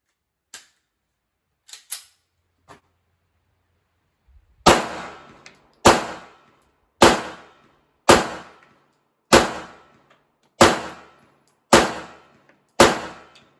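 Eight sharp, loud 9mm pistol shots ring out one by one at a steady pace, each with a short decaying tail: Winchester ammunition fired from a Shield pistol at a 25-yard outdoor range, after a few faint clicks.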